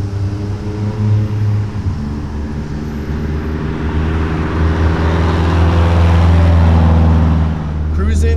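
A Datsun 720 minitruck with a swapped KA24DE engine and loud exhaust drones steadily and close, its pitch building and then briefly dropping near the end as the gears change.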